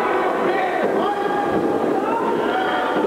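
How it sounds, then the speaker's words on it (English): A wrestling crowd at an NWA Southwest pro wrestling event in 2000 roars in a steady, dense wash of cheering and shouting that holds at a constant level throughout, with no single voice standing out. "The crowd cheering him on"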